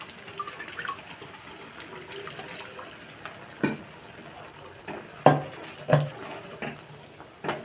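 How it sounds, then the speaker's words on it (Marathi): Pav bhaji vegetables cooking in a pan as water is added, giving a soft bubbling sizzle with a few sharp utensil knocks and stirs near the end, close by with no talk. "जसं रस्सा आवडेल तसं आपण पाणी टाकून घेणार"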